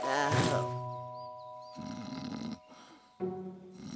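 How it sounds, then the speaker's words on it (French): A cartoon character snores loudly after a big meal, with deep rasping breaths, a whistling exhale between them and music playing underneath. "on l'entend ronfler à des kilomètres"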